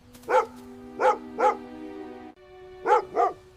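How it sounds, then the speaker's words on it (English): A dog barks five times nearby in short bursts, three in quick succession and then two more after a pause, over a low steady hum. "Look, he's barking at that window."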